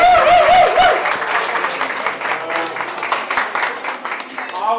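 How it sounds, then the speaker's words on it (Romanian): Audience clapping at a rally award ceremony, a loose patter of applause after a brief spoken announcement, fading out over a few seconds. "Aplauze!"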